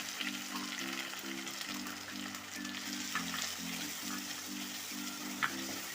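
Crushed garlic, shallots and ginger fry in a pan for a Kerala-style fish curry, giving a steady, moderate sizzle with occasional stirring scrapes, while a low droning hum runs underneath throughout.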